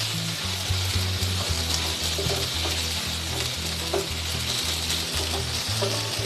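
Prawns being fried and stirred into potato and pointed gourd for a Bengali patol chingri curry, with a steady close sizzle of oil and a recurring rhythmic scraping of the spatula against the pan.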